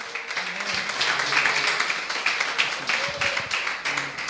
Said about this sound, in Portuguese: Recebam aplaudindo a Jesus.